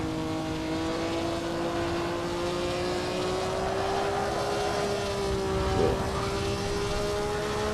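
A 1957 Formula 1 car engine in Assetto Corsa on the final lap at Buenos Aires, Argentina, sustains a loud, steady high-revving drone with a slowly rising pitch and a short gearshift blip late on.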